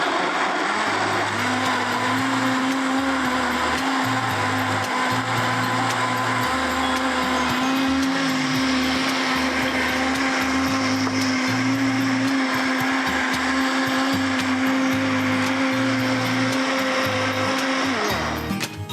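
A countertop blender runs steadily for almost twenty seconds, a loud continuous motor whine blending a drink in a kitchen, alone with no talking, cutting off at the end.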